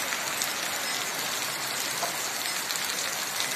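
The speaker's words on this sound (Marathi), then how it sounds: "हे बघा वळचण कशी गळते बघा पत्र्यात" Heavy monsoon rain pouring steadily and dripping from the eaves of a tin roof, a dense, even hiss of drops that stays loud and unbroken throughout with no voices.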